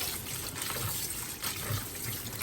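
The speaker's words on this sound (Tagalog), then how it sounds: "babanlawan natin ng malamig na tubig" Cold tap water runs steadily over something being rinsed, a continuous splashing wash with no talk during it.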